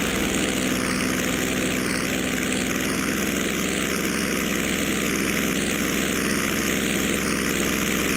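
A Curtiss P-40E Warhawk's piston engine and propeller roar steadily in flight just after gear retraction, throttled back to 35 inches and 2,500 RPM, a loud, unbroken drone close to the cockpit.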